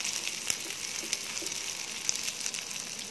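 Spoonfuls of Balinese corn fritter batter fry in hot oil, giving a soft continuous sizzle with scattered small pops, close but fairly quiet.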